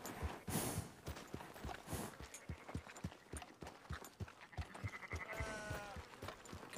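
Sheep bleat several times in the video game Red Dead Redemption 2, their calls rising over a steady clip-clop of horse hooves at a slow walking pace, nearby and fairly quiet.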